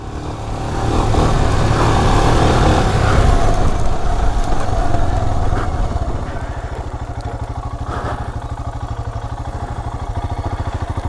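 Royal Enfield Himalayan motorcycle ridden off-road over dry terrain, a loud throaty engine surge that eases into a steady thumping idle-like chug, with rattling clatter and wind throughout.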